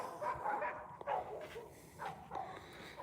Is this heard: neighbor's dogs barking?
yes